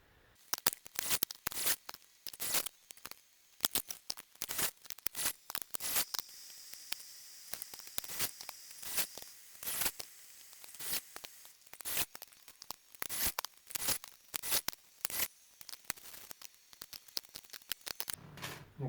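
Cast iron piston rings for a D16 Honda Civic turbo build being cut to gap on a ring filer, a long run of quick, crisp scraping rasps repeated close up, with no talk.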